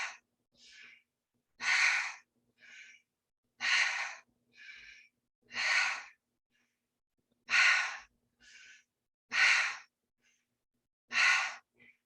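Deep breaths drawn in through the nose during a guided breathing meditation come in a slow, steady rhythm, each strong inhale followed by a softer exhale, close and alone.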